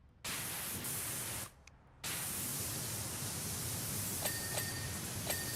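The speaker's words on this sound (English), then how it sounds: "that gentle white noise ambience. Now I can focus." Broadband white noise ambience from the Powerwash Simulator 2 video game, a loud steady static hiss that cuts out for about half a second, returns, and later carries faint tonal blips.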